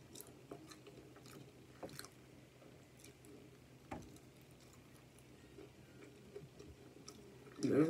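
Quiet, close chewing with scattered soft crunches and wet bites, spaced irregularly, ending in a louder crunch.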